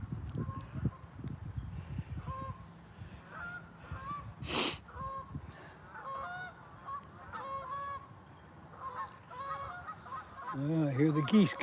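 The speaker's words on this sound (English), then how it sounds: "I hear the geese coming in." A flock of geese flying in toward the water near a fishing spot, honking repeatedly in overlapping calls at moderate distance, with brief handling noise and a louder burst of close honks at the end.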